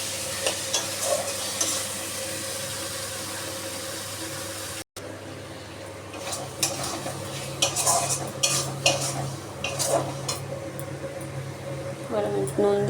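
Spoon stirring mutton curry with chilli and cumin powder and a splash of water in a pan, a steady scraping and clinking over a low sizzle, close and continuous with louder scrapes toward the end.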